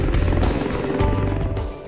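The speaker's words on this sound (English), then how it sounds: "So we've got 2 helicopters in to transport the patients." A helicopter flies near the scene of a major road crash, its rotor chop and engine roar loud and steady throughout.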